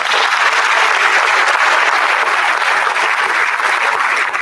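An audience at a 2021 National Honor Society induction ceremony claps for the inductees in dense, steady applause that stays loud and unbroken throughout.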